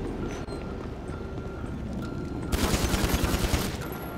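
GTA 5 roleplay gang-war gunfire: a steady ambient bed, then about halfway through a rapid burst of automatic shots, loud and close, rattling quickly to the end.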